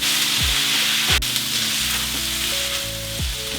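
Noodles go into a very hot pan of beef chow mein, giving a loud continuous sizzle with a sharp hiss and clack as they land, under faint background music.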